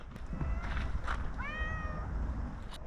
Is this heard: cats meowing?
yes